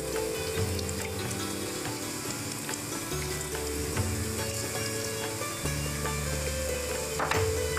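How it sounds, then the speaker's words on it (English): Steady sizzling of pakora frying in hot oil, a continuous crackling hiss with occasional faint clinks, no voices. "We let them fry until they are golden brown and rise to the top of the pan."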